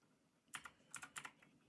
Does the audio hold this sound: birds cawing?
no